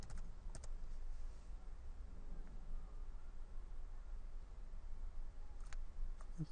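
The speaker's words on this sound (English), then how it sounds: "I'll just click here and I'll just type in" Computer keyboard typing in a quiet room, a few faint clustered key clicks over a soft steady background hiss.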